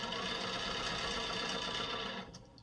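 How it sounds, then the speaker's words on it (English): A sewing machine stitches a quilt block, a close, steady mechanical whir with a fast regular needle rhythm that runs throughout and fades out near the end. "And then what you do is you just sew."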